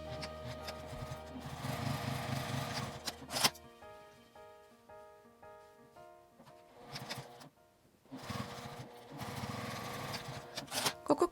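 A sewing machine bastes a pouch pocket with a 5 mm seam allowance, running in two close, steady bursts of rapid stitching separated by a quieter pause.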